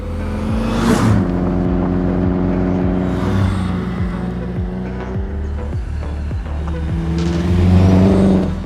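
Original Audi S3 accelerating on the road, a steady engine drone climbing through the gears with rhythmic road thumps and swelling revs near the end, heard from inside or close by without speech.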